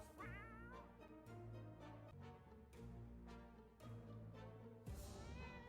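A cat meows and yowls repeatedly from inside a shaking bag in the survival video game 60 Seconds, a series of drawn-out, wavering cries close up and alone.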